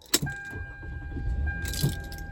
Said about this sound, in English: we're gonna start this car right here